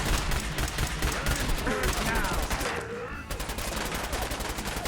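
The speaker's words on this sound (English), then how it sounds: "Open fire, Nick" Gunfire in Fallout 4 crackles as a steady stream of rapid shots, with a brief lull and faint voices before the dense firing picks up again.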